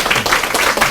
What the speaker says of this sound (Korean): 박수로 한번 격려.